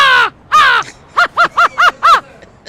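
A person imitates an American crow cawing. Two long, harsh, raspy caws are followed by a quicker run of five short caws, close and loud with no other sound.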